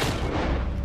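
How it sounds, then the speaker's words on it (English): A short, dense burst of gunfire in the Red Dead Redemption 2 video game, loud booming shots packed together in under a second. "I'm just shooting."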